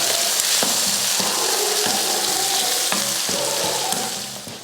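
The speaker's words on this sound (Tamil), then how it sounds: "ஒரு பெரிய வெங்காயம். இதை நான் வதக்கிடலாம்." A large onion sautés lightly in a pan, a close, steady sizzle punctuated by repeated sharp clacks of a spatula stirring against the pan, with no voices.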